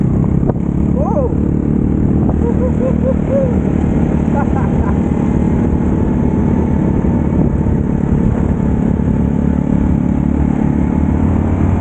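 A Yamaha Mio Sporty scooter rides along a road, its engine droning loud and steady throughout with wind rumble, while people talk intermittently over it.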